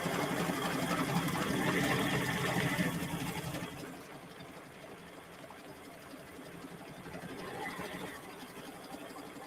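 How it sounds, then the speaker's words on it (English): An embroidery machine stitches the loop of a letter R onto a holiday sweatshirt, a fast, steady mechanical whir and needle patter that softens partway through and continues at a lower level. "now it's going to stitch the top sort of loop of the R"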